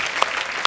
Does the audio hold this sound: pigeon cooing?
no